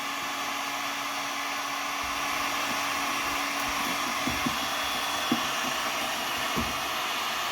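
A heat gun blows with a constant loud whooshing roar on a Mercedes headlight lens cover, the airflow steady throughout with a few faint knocks and clicks beneath it.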